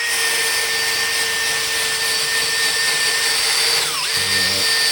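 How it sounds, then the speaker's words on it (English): A sanding wheel on a power tool runs steadily as it rounds over the edges of a wooden oval table leaf clamped in a vise, a loud continuous whine with a slight dip and pitch change near the end. "we're going to take a sanding wheel and"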